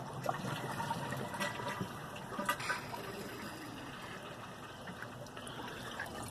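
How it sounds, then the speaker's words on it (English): A small-tank toilet flushes, giving a steady rushing, gurgling water sound that stays fairly close and moderately loud for several seconds, with no talk over it. "So first you're going to flush the toilet."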